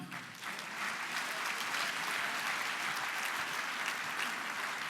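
An audience at a live card-trick show applauds a volunteer called up on stage; steady, even clapping from the crowd holds throughout, with no voices over it.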